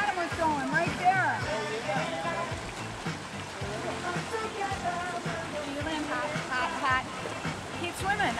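A small waterfall feeds Lake Superior at Keweenaw Bay, a steady rushing splash close by, mixed with water movement and children's voices and talk over it.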